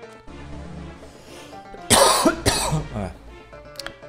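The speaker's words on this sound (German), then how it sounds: "Fängt's an mit dem Husten." A person coughs a few times in quick succession, close and loud, over quiet video game background music from Battleblock Theater, with a brief throat-clearing rasp among the bursts.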